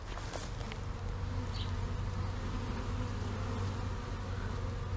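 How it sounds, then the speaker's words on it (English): Bees buzz steadily outdoors beside a 1970s John Deere 310 backhoe, forming a dense, continuous drone with one insect passing close for a moment. "I hear lots of buzzing."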